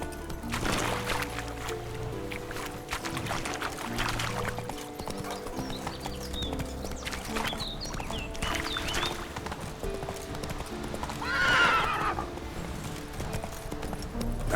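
Roach, a horse in The Witcher 3, trots with steady clip-clopping hooves over an ambient game soundscape. A short whinny rises near the end.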